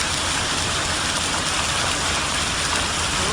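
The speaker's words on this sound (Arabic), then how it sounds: "شوف البرد شوف البرد يركض" Hail pours down in a dense, loud, steady hiss during an eastern-region storm, a constant wash of pattering that fills the whole stretch with no break.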